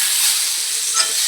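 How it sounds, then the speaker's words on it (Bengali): Potatoes frying in oil in a pan, a close, steady bright sizzle and hiss with a small flare of crackling near the end. "এই যে আমি আলু ভাজাটা বসিয়ে দিয়েছি।"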